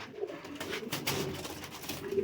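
Soft cooing from a pair of Sialkoti Kanta Kash pigeons, low murmuring coos repeating close by over a faint background hiss, with no talking.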